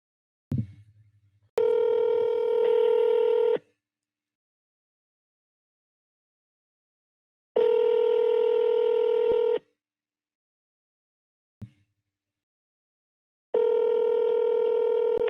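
Touch-tone telephone dialing a call to a time-and-temperature number: a short burst of keypad tones, then repeated steady ringback tones in long evenly spaced pulses, clear and alone with no talk.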